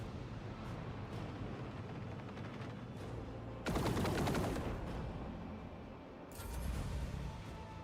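Bursts of automatic gunfire in a dark sci-fi shooter video game, a loud dense volley in the middle over steady background ambience, with a second shorter burst near the end.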